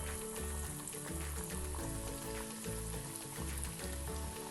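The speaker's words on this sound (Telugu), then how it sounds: "ఇవి మెల్లగా ఒక్కొక్కటి వేసి వేయించుకుందాము" Mini kachori sizzle steadily as they fry in hot oil, a continuous crackling hiss with dense bubbling, loud and close with no voices.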